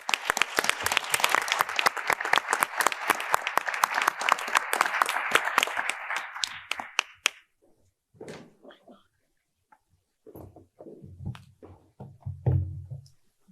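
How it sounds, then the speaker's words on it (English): An audience at an arbitration conference session applauds presenters and panelists, a few seconds of sustained clapping that thins out, followed by scattered thumps and a voice starting to speak. "invite everyone to give our presenters and our panelists a big round of applause for being here"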